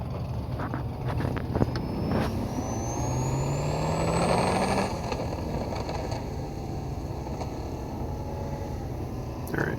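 No Limit 2.0 race engine, freshly refreshed, running on a dyno, a loud steady roar with a rising whine that climbs over several seconds, then holds and fades, with no voices.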